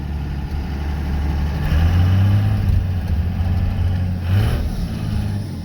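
A second-generation Dodge Ram pickup's engine runs smoothly at low speed around a yard, a steady mid-pitched rumble that swells briefly as it revs, near and without sputtering.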